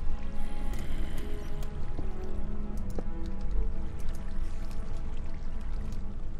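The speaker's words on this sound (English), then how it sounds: "Sorry, water coming." Water flowing in Minecraft makes a steady, full rushing wash that pours on without a break for several seconds, fairly loud, with no voices over it.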